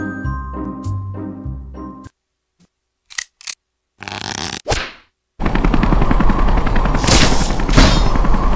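Gunfire from a police officer in the Henry Stickmin video game: a few sharp, isolated cartoonish shots after a short musical passage, then a loud, sustained noisy barrage filling the rest.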